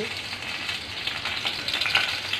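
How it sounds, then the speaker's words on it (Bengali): Black cumin seeds and green chili sizzle and crackle in hot oil for a tempering, a continuous close, bright frying hiss with small pops. "একটু ফোড়ন দিয়ে দিলাম কালো জিরা, তারপর একটু কাঁচা মরিচ দিয়ে দিলাম ফোড়নে"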